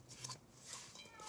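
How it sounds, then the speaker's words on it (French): Cats shut in a room meow faintly in a home kitchen, a couple of thin, drawn-out cries heard from a distance over quiet background. "Ils miaulent parce qu'ils sont enfermés, les pauvres."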